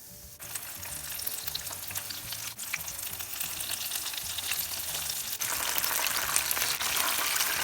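Chicken pieces frying in oil give off a continuous crackling sizzle, steady and moderately quiet, growing slightly louder toward the end.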